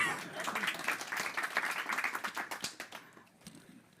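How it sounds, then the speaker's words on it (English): A modest audience at a kick-off event claps for a presenter, a thin, scattered round of applause that fades out over a few seconds. "So please give an applause for Peter"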